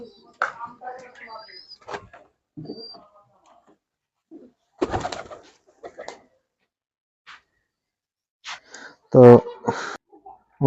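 Russian Girbaz pigeons at a pigeon farm coo in short, scattered calls between bursts of people talking, with occasional clatter and wing or door sounds nearby.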